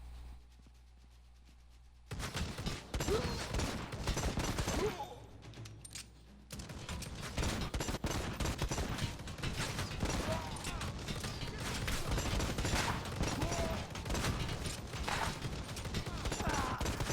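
Pistol fire in Necromunda: Hired Gun crackles in rapid, dense volleys of sharp shots, loud and close, broken by a brief lull partway through, with no talking over it.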